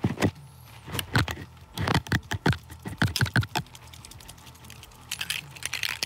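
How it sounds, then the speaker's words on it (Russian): A coin rattles inside a sealed drink container as it is shaken, giving a close series of sharp metallic clinks and clatters in irregular bursts with short pauses, with no voices. "Монетка внутри, это слышно."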